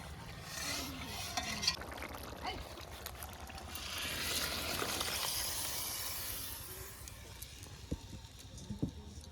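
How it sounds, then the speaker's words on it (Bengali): A lid comes off a simmering pot of fish curry and a tempering of hot oil with radhuni seeds goes in, producing a steady broad sizzling hiss that swells mid-way, with a few sharp metallic clinks near the end and no talking. "এবার ঢাকনাটা তুলে সম্বরা দেবো"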